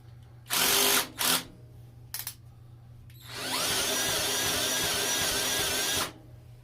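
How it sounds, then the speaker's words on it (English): A cordless drill with a dying battery whirs in two short bursts, stutters briefly, then runs steadily for about three seconds before stopping; no voices. "Oh no, don't tell me my drill's dying."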